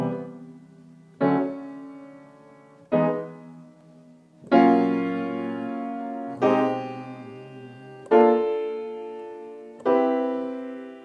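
Piano playing major 7th chords whose roots move up by major seconds, seven sustained chords struck one after another at a slow, even pace, each ringing out and fading, alone and at moderate volume.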